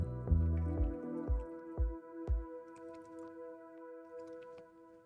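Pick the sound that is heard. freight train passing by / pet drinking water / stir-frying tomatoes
pet drinking water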